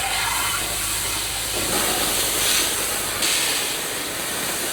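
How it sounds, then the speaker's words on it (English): Garden hose spraying water to rinse down antique furniture outdoors, a steady close hiss throughout with slight surges in intensity. "The next step is to just rinse everything down with the hose"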